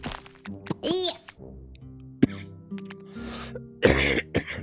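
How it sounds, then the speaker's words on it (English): An old man coughing, several harsh coughs and throat clearing mixed with brief speech and game sound effects, close and loud. "Old man coughing."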